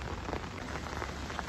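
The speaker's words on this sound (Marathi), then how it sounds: "मित्रांनो, कंटिन्यू 3 ते 4 दिवस झाले पाऊस पडतोय" Heavy rain pours down over a flooded village, a dense, steady hiss of drops striking water and surfaces, continuous and fairly close throughout without voices.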